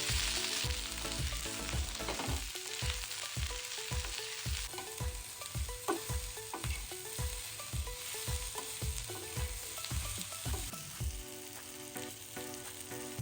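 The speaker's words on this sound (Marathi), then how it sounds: "याला आपण आहे ना चांगलं भाजून घेऊया तेल घालून." One inch of ginger frying in oil in a pan, a soft continuous sizzle punctuated by regular rhythmic scraping strokes of a spatula, fairly quiet and close, with no speech.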